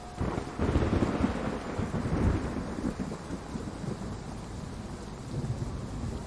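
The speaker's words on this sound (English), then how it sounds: "I love the thunderstorm sounds." Thunder rumbles through a steady rainstorm in the Train Sim World 3 railway simulator, a deep rolling boom swelling early and fading under constant rain hiss, no talk.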